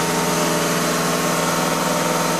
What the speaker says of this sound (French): mon collègue va accélérer en fait toutes les minutes à 2500 tours